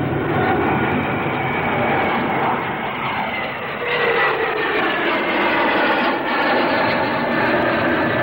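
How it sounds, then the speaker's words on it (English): A Vickers VC-10 airliner with four rear-mounted Rolls-Royce Conway jet engines passes at a flying display, a loud continuous jet roar that shifts and swells as it goes by. "With four rear-mounted Conway engines, the VC-10 will carry up to 150 passengers over intercontinental routes"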